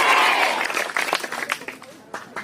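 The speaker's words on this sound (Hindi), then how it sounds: "एक बार जोरदार तालियों से बोले शिक्षक दिवस" Loud crowd applause at a school Teacher's Day and farewell ceremony at G.H.S.S. Lendhra in 2021, dense at first and then thinning into scattered claps, with voices mixed in.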